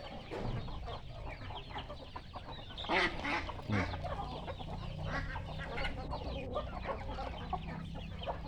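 A flock of Campbell and Runner ducks and chickens clucking and calling continuously at moderate distance, with a couple of louder squawks early on over steady farmyard background.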